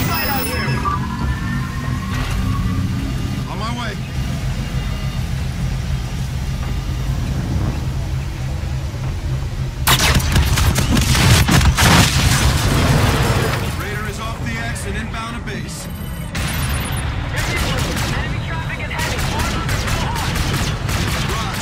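A firefight in the video game Call of Duty Infinite Warfare brings dense, loud rattling gunfire and booming explosions over a constant rumbling background, with voices speaking at times.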